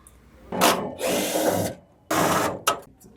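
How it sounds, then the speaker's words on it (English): A powered screwdriver with a T20 bit backs out screws holding the fans in a 3LH4500 unit, giving two close, loud whirring bursts with brief pauses between. "There are now 7 screws holding the fans in place, and we'll just go ahead and remove those."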